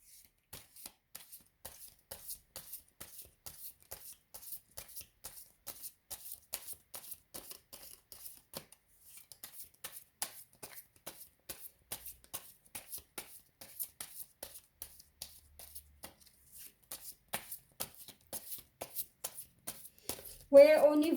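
Tarot cards shuffled and drawn by hand, a steady run of crisp riffling flicks and soft slaps for about twenty seconds, close and moderately quiet, with a brief louder handling burst at the end.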